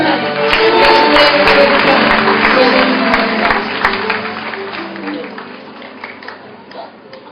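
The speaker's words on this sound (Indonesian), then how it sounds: "Sekali lagi kita boleh berikan tepuk tangan yang paling meriah buat Brenda dan Sisi" Applause from a congregation at a church anniversary service, a dense steady clapping that starts loud and gradually thins and fades over several seconds.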